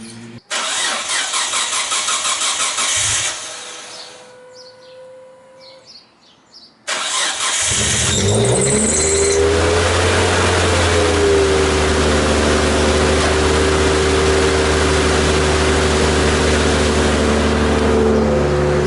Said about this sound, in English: The car hasn't been started in over a week, so with a bit of luck this thing's going to start.